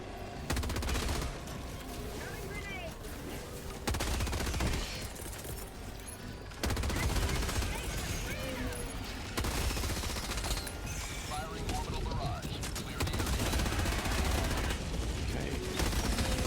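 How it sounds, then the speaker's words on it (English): Gatling Barrage strike in Helldivers set against swarming bugs: sustained loud rapid-fire gunfire rolls on in dense bursts for the whole stretch, broken by a few brief lulls, with heavy low rumble underneath. "Gatling Barrage is pretty good."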